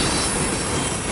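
A manifest freight train led by a Union Pacific ES44AC locomotive rolls past in downtown El Paso, Texas, with a loud dense rumble of wheels and cars and a faint squeal, alone and close.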